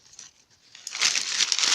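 Paper lining from a canary's cage being crumpled during cleaning, crinkling faintly at first then swelling into loud, dense rustling close by.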